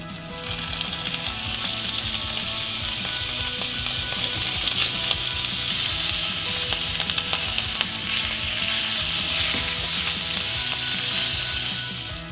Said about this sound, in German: tue ich jetzt die wunderbaren Crevetten in der Bratpfanne mit ein bisschen Knoblauch anbraten